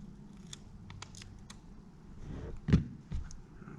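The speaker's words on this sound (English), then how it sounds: "Just getting some tape cut here." Tape being cut with scissors at a workbench while building a modified V1, a few faint snips and rustles followed by a sharper cut near the end, close and alone.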